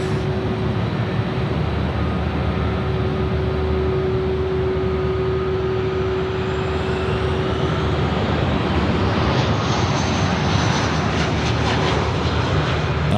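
A BAe 146 jet at Sydney airport gives a steady, loud engine roar with a sustained tonal whine that builds toward the end, heard alone without talk.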